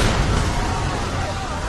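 Explosion in the rear section of the Japan Airlines 123 airliner, rendered as a sustained, loud low rumble with roaring broadband noise throughout, close and overwhelming.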